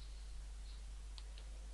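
Two quick, faint mouse clicks land close together near the end, set against a steady low hum with no talking, as buttons are clicked in a web browser.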